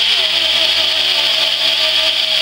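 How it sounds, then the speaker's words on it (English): Paint is cleaned off a spot on a Chevy Traverse-type SUV body to ground the trailer wiring, with a loud, steady, close abrasive whir from a rotary tool running continuously and no talking. "Just gonna clean the paint off the spot here so I can get it ground."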